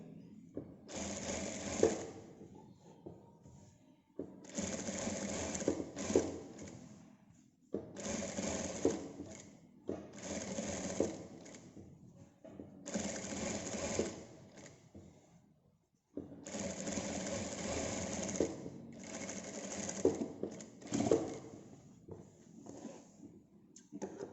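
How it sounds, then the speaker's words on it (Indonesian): A sewing machine topstitches a 1 mm seam along tunic fabric in several steady bursts of whirring stitching, each lasting a few seconds with short pauses between, close and fairly quiet with no talking. "Jahit tindas 1 mili."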